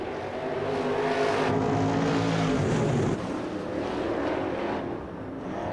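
Race cars roar off together from a turn-4 start zone at Central Arizona Raceway in Casa Grande, a dense, steady wall of engine drone that shifts in pitch midway and stays loud throughout, with no talk over it.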